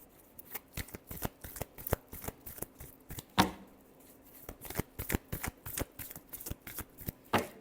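Close, quiet shuffling of tarot cards: repeated soft papery riffles and taps in an uneven rhythm, with one sharper slap near the middle and no talking.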